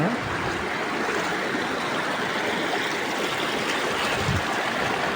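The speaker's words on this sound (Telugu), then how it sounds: "వర్షం వలన కాలువ అయితే పెరిగి ఎక్కేసిందనమాట" Floodwater from heavy rain overflowing a crop canal into a field, a loud, steady rush of continuously flowing water, a broad churning roar with no voices.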